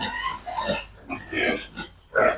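Native pigs on a rainy, cold farm grunt and oink in short, close bursts, several snorts following one another with brief gaps and a louder squealing grunt at the end.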